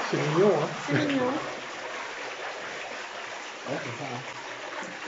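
A small waterfall inside the catacombs gives a constant, echoing rush of water, with people talking over it at the start and again near the end.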